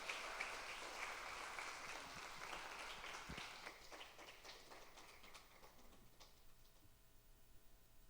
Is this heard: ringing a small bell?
no